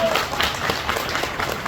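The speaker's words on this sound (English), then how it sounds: "Can everyone give a round of applause for Vitalik being here today?" An audience at a crypto community event claps in a brief, steady burst of many hands, moderately loud and evenly spread.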